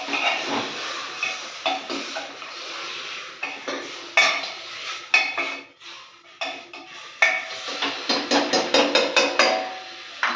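A spoon scrapes and knocks against a metal pan while ingredients are stirred, giving irregular clanks and scraping strokes, some in quick bursts, with a faint hiss beneath.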